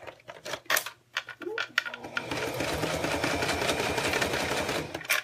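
A sewing machine stitches a zipper in place, starting after a few scattered handling clicks and knocks, then running in a steady, close mechanical rattle to the end.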